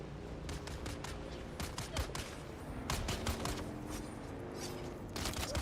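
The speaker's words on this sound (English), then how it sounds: "Is that a player shooting me right now?" Several bursts of rapid player gunfire in a video game set on Arrakis, crackling in quick clusters and short volleys at moderate distance over a steady low background hum.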